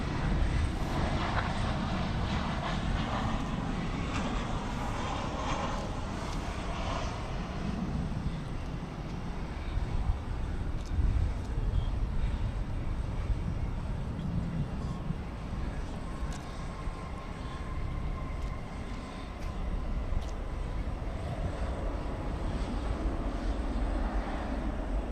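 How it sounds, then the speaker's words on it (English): Nassau flight coming in to land at DFW after dark, a steady, fairly distant jet roar that holds evenly throughout with no sharp peaks. "let's get this Nassau flight coming in"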